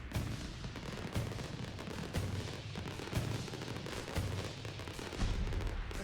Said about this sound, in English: So when it rolls over, the fireworks will go off.